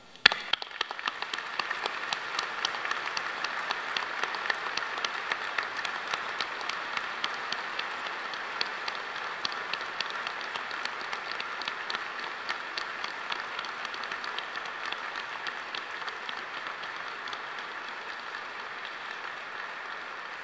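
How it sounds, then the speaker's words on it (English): Sustained applause from a graduation ceremony audience congratulating graduates, a dense steady patter of many hands clapping for about twenty seconds, gradually thinning toward the end. "Will you please join me in giving a humdinger clap of congratulations to all our graduates?"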